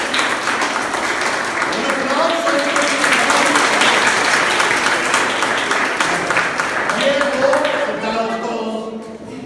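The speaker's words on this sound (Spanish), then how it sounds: "Un aplauso para Diego" Loud, close applause from a children's choir session during a voice and breathing workshop, cheering a boy named Diego; the even clapping holds steady with voices mixed in, then tapers off near the end.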